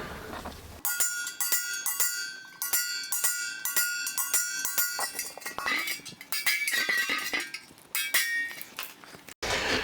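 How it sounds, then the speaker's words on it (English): Rapid, sharp metallic strikes ring out in quick irregular bursts as holes are centre punched in a metal beer keg, a steady hammering on hollow metal with bright clinking overtones. "So it's on with the earmuffs, and centre punch these holes."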